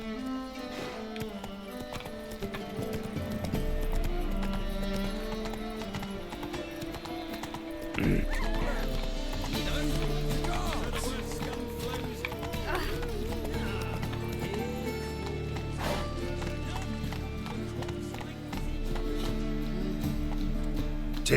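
A horse gallops in The Witcher 3: Wild Hunt, with rhythmic hoofbeats and an occasional whinny under game music and effects, while a voice talks over the top.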